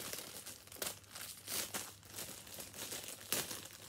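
Plastic action figure packaging for a FNAF 6 figure being cut and pulled open, with a run of crinkling and crackling bursts, close and fairly quiet, with no talking.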